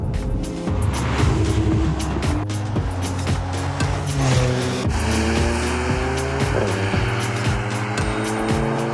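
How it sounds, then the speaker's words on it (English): A 2019 Porsche Macan base model with the 2-litre engine is heard from inside as it drives, a steady engine drone rising and falling through gear changes, with no talking over it. "Right now we are in the base Porsche Macan. This is the 2-litre."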